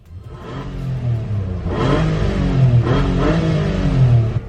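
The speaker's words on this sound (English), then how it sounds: "Let's give it some revs." A McLaren 3.5-liter V6, a non-turbo version of the 4GT motor, idles with a low rumble and then revs hard twice. Each rev rises and falls steeply in pitch and stays loud and close throughout.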